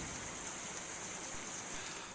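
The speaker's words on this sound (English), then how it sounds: "The heat wave ended abruptly with thunderstorms." Steady hiss of rain falling in a forest during a summer thunderstorm, a continuous soft wash of drops with no breaks, fairly quiet and even throughout.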